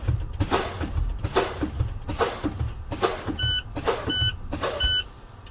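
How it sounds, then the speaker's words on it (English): Class A truck low air warning buzzer sounding in the cab as air pressure drops, a steady high electronic tone in short repeated bursts against loud intermittent air hissing and cab noise. "my low air warning lights and buzzer have come on."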